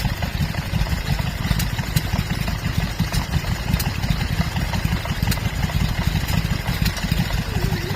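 A 1941 Ruston Hornsby 1.5 horsepower stationary engine runs steadily at an outdoor rally, its low rhythmic chugging close and continuous, with faint sharp ticks over the top.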